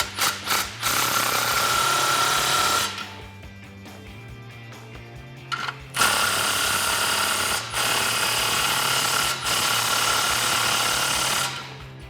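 Power tool tightening an exhaust clamp on a 2018-2019 Mustang GT Pypes Pype-Bomb axle-back exhaust, a loud close whirring buzz in long bursts with brief pauses, no talk.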